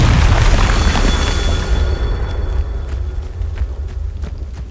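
A Confringo spell explosion in the Hogwarts Legacy video game erupts as a loud, deep boom that rumbles and slowly fades, with faint crackles trailing after it.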